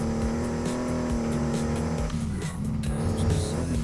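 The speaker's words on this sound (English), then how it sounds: "Then again, this is not a very loud engine." A video game car's engine drones loudly and steadily while the tires squeal and skid through a turn, the sound dipping briefly before the engine surges again.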